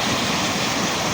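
Floodwater from a stream rushes into fields during a storm with heavy rain in Kashmir, a loud, dense, continuous roar of flowing water with no break.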